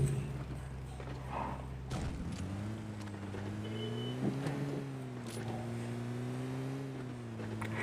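A vehicle drives in PUBG Mobile Lite, its steady engine drone rising slightly in pitch as it picks up speed after a brief jolt, continuous and fairly faint.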